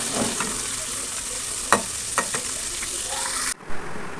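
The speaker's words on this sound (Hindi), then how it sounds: "देखिए इतने अच्छे से फ्राई हो रहे हैं। चाहे तो इसको आप इस तरह से हिला भी सकती हैं" Chicken breadcrumb balls frying in hot oil, a steady close sizzle with a few scraping stirs of a spoon through the pan, ending abruptly.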